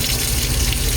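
Water pours steadily over berries, a loud continuous gushing splash like a running tap, filling the whole short moment with no pause.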